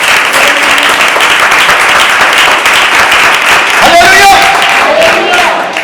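Church congregation applauding during a sermon, a loud continuous wash of clapping and crowd noise with voices rising over it, including a brief tonal call near the middle.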